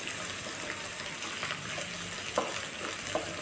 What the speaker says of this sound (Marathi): मिडियम गॅसवर मी हे परतून घेत आहे वाटण